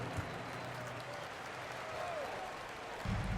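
Arena crowd applause in the NBA 2K24 basketball game during a timeout for the Clippers youth dance team, a steady wash of clapping and crowd noise under an announcer's voice.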